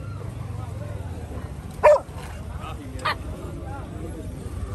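Dogs at a large outdoor dog market in Punjab, selling breeds like Pomeranians and Labradors, give two short, sharp barks a second apart over steady crowd murmur and background noise.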